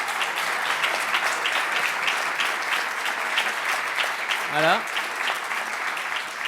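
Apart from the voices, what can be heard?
audience applause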